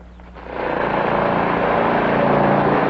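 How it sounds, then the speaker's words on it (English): A small lawnmower engine starts up and settles into a steady, loud buzzing drone with a faint rhythmic chug, running close by without voices. "Pesky lawnmower."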